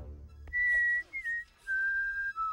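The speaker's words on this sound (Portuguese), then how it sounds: "Tudo que eu ouço é o Sasquatch assobiando" A cartoon Sasquatch whistles a short tune in a children's animated show, a few clear sliding pitched notes, close and alone against a quiet background.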